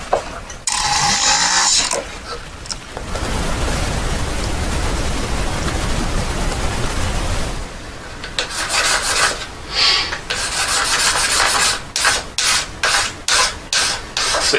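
Hand filing and smoothing on a handmade single-diamond ring, with a steady raspy rubbing stroke lasting several seconds, then a run of shorter, rhythmic scraping strokes, close and fairly loud with no talking.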